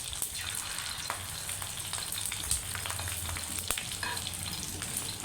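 An egg fries in a pan seasoned with black pepper and salt, giving a steady, close sizzle with crackling pops throughout and no talking.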